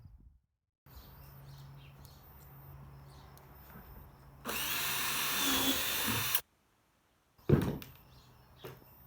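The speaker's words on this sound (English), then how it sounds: "So we'll just go drill this hole and" A power drill whines loudly for about two seconds, boring a hole in a chicken waterer container for a bulkhead fitting, then stops; a shorter burst of drilling follows, with quieter handling noises between.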